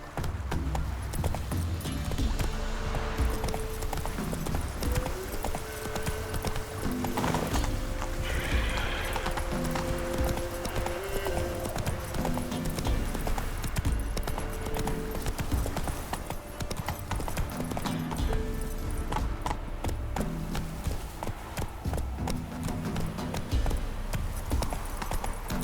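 Roach the horse gallops in The Witcher 3: Wild Hunt, a dense, continuous drumming of hoofbeats under game music and ambient sound, loud and steady throughout.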